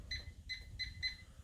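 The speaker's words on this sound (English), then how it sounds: "Set that timer." A kitchen timer set for baking granola gives four short, high, evenly spaced beeps, close and clear over a low background hum.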